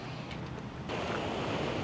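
Surf rolling in at Avalon Beach, a steady broadband wash with wind across the microphone that swells louder partway through, with no voices.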